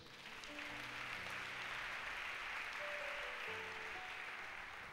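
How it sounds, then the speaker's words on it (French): Church congregation applauding together, a steady dense wash of clapping at even loudness throughout, with faint sustained tones from instruments or voices underneath. "Acclamons le Seigneur."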